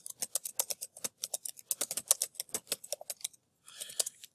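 Rapid keystrokes on a computer keyboard while entering text into a website builder, a steady run of close, crisp clicks with a short pause before a final burst.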